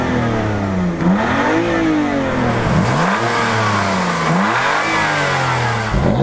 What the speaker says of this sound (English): But the M2 does rev something.